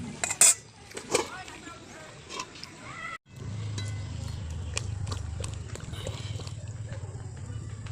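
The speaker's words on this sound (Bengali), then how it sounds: "ডালটা সিদ্ধ হয়ে গেছে এই যে একটু চামচ দিয়ে ঘেটে নিলাম" A spoon clinks and scrapes against a pot of boiled lentil dal with a few sharp metallic knocks early on, then a steady low bubbling simmer takes over. A voice speaks briefly in the background.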